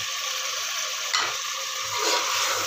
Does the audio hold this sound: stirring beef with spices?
yes